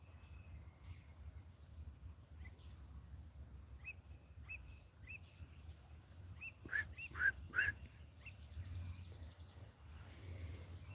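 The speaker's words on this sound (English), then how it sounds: "You can hear a bird, a raptor from a distance." Faint raptor calls ring out from afar in an urban forest, a few sharp cries clustered midway, over quiet outdoor ambience with insect chirps.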